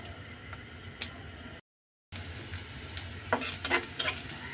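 Chopped onion, garlic, green chillies and cut red chillies sizzle in a pan for a jute-leaf stir-fry, with steady frying hiss and scraping stirs that build near the end, broken by a brief silent gap.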